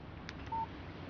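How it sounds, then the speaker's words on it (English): A short text-message alert chimes once on a phone in the video game Alan Wake, a brief steady tone standing out over a faint background hiss. "Text message from Barry."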